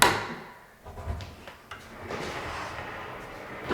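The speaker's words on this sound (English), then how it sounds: "Let's see if I can open it without the door handle." An old, blocked secret wooden doorway in a chateau, linking the kitchen to the dining room, is pushed open without a handle, giving a short creak and rubbing scrape with a few soft knocks, close and without talk.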